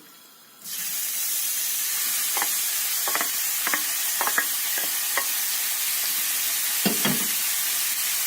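After a brief quiet moment, meat hits hot oil and sizzles loudly and steadily, with a few metallic stirring clinks and scrapes.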